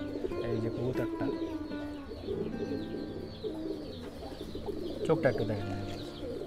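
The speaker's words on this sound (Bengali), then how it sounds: "এটা হলো ফাইটারের মেন পোলা" A fighter pigeon coos repeatedly at close range inside a home loft, low throaty calls rolling over one another while someone speaks briefly over them.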